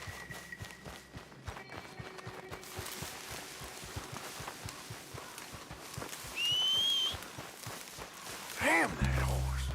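Horse hooves clip-clop in the Western video game Red Dead Redemption 2, a rapid, steady run of hoofbeats heard alongside game sounds, with a brief whistle and a sharp burst of noise near the end.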